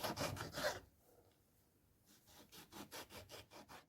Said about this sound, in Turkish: Arkadaşlar limonlarımızı güzelce dilimledik.